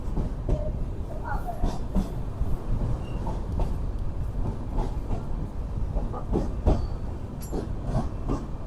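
Inside the Kanchankanya Express, the train rolls into Kishanganj station with a steady low rumble, scattered clicks and clacks of wheels over rail joints, and a few sharper knocks, while people speak faintly onboard.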